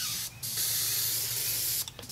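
Airbrush spraying cleaner to flush out paint: a loud, continuous airy hiss, broken by two brief pauses near the start and end, close by with no voices.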